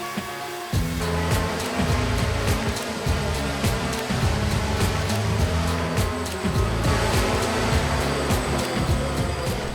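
The motors of a DJI Phantom 1 quadcopter, fitted with unbalanced propellers, run close by with a loud, steady buzzing roar that wavers and rattles throughout, with no talking.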